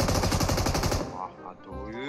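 Rapid automatic gunfire from PUBG Mobile rattles in a dense, loud burst for about a second, then gives way to quieter in-game ambience and a faint voice.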